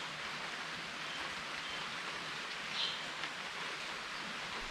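Light rain falls outdoors as a soft, faint, even hiss with a brief louder patter, steady and distant, with no voices.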